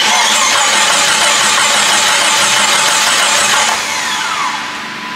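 A Jeep Grand Cherokee with a turbo build cranks loudly and steadily as the fuel pump kicks in, a dense continuous whir and churn close by that eases slightly toward the end.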